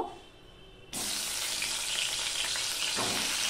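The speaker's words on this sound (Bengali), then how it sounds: "সবার প্রথমে আমি বেগুনটা ভেজে নেব" Eggplant pieces frying in hot oil for a fish curry: a loud, steady sizzle bursts in abruptly after a quiet start and carries on densely, with faint scraping stirs near the end.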